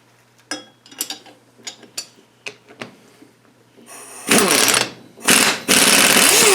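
Power tool backing a bolt out of a differential during a carrier bearing job, heard as loud sustained whirring bursts after a run of short clicks and knocks, each burst cutting off abruptly.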